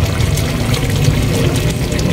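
Water poured into a dish of home-cooked Filipino dinner food to thin it out, a steady continuous pouring and trickling sound, close and fairly loud, with no talking.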